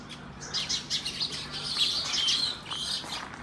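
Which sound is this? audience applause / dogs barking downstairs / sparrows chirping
sparrows chirping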